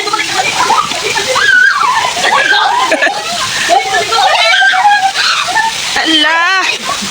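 Children splashing and playing in water, with continuous sloshing and splatters close by, mixed with lively chatter, giggles and excited shouts throughout.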